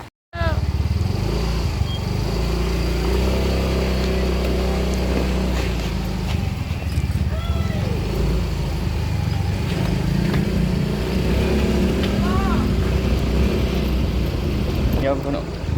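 An electric bike hums steadily along a highway, close and continuous, with traffic noise around it and faint voices now and then.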